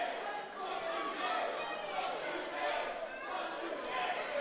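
Wrestling arena crowd chanting for Patrick Hayes, a steady roar of many voices rising and falling in rhythmic swells, filling the hall at moderate distance.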